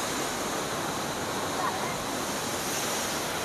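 Rushing water at Chatikona waterfall near the Shri Shri Pataleshwar Mahadev temple, a steady dense roar that fills the whole clip without breaks, close and constant.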